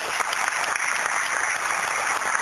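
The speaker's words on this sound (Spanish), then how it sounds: "Y nuevamente damos a fuertes aplausos al doctor Manuel Ferreira Vélez" An audience at an astrophysics symposium applauds a lecturer with dense, steady clapping that holds at full strength for the whole stretch, with no voices over it.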